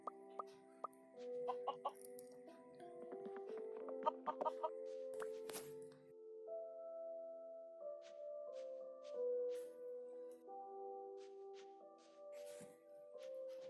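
A chicken clucks in the video game Mini World, a run of short, bright game-sound clucks and squawks with clear pitched tones, moderately loud over a quiet background with a few brief clicks.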